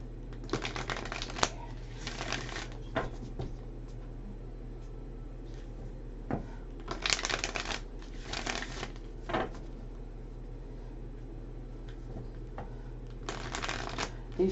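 Tarot cards being shuffled in repeated bursts of crisp riffling and flicking, close up, with short pauses between shuffles and a steady low hum underneath.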